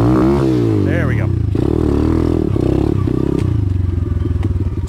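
A DB Tao pit bike engine idles close by with a steady, buzzy low drone that rises and dips slightly, while a voice briefly talks over it at the start.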